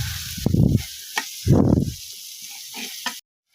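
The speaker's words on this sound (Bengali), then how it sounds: "এখন তেলের উপরে এগুলো ভালোভাবে কষিয়ে নিয়ে" Spices sizzle as they are fried in oil in two loud crackling bursts followed by fainter hissing and small pops, up close, before a sudden cutoff.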